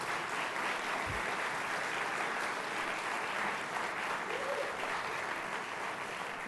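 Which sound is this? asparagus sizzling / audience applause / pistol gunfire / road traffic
audience applause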